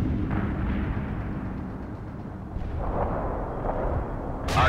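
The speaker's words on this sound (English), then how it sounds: "Artillery barrage inbound." Artillery barrage in the video game World in Conflict, a continuous low rumble of distant explosions with a few sharper blasts rising out of it and a louder burst at the end.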